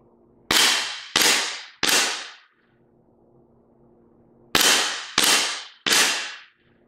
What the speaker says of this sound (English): I'm just gonna do my best to show you, you know, the angle from the gun here hitting the targets as well.